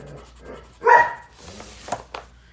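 A normally quiet dog gives one sharp, loud bark indoors, followed by softer whimpers and small yips, with no talk over it.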